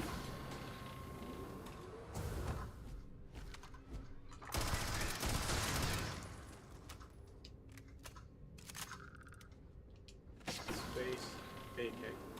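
Automatic AK-style rifle fire in the space game Starfield, loud bursts and rattling volleys with mechanical clatter between them, strongest around the middle of the stretch.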